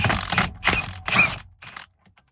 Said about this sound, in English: Taking this bolt off, which I think is a 21 or a 22.